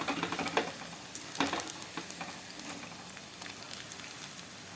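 Semiya (vermicelli) pakoda deep-frying in oil, a dense close crackling sizzle with scattered pops and a few louder splashes as the fritters are turned, with no one talking.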